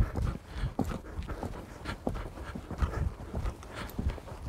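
A horse canters with a change of lead in a riding session, its muffled hoofbeats falling in a steady repeating rhythm with soft snorting breaths, fairly close but low in level.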